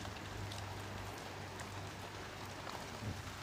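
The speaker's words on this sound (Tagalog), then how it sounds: "May mga ilang pumapatak-patak na." Light rain starts falling outdoors at a rural cooking spot, a faint, steady patter of scattered drops against a soft low hum, with no voices.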